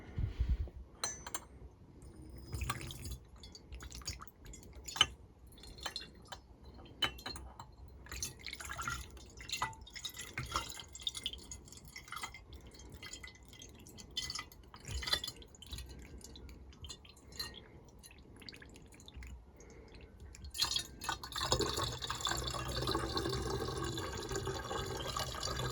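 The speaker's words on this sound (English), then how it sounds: "So I'm just going to transfer back into the bottles that the gin and vodka came in." Plum-infused gin poured from a container back into cleaned glass bottles, a steady trickling and dripping of liquid with small clinks, rising to a fuller, louder splashing pour near the end.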